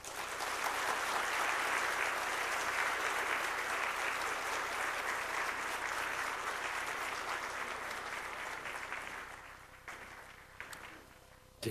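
Warm applause from a church congregation at a Wednesday service sending missionaries out to the Philippines, sustained crowd clapping that stays full for several seconds, then thins to scattered claps near the end.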